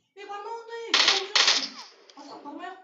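Gunfire in the mobile game PUBG Mobile: two short, loud bursts of rapid shots break in midway, with a voice talking before and after them.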